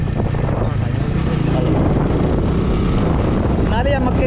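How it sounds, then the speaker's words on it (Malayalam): Wind buffeting a microphone during an off-road ride, a loud, continuous roaring rumble that fills the whole stretch without letting up. "കാരണം എനിക്ക് കാറ്റടിച്ചു"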